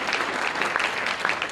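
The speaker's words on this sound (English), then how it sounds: "a big round of applause for all those wonderful leaders" A crowd applauds, dense clapping from many hands, loud and continuous for a brief moment.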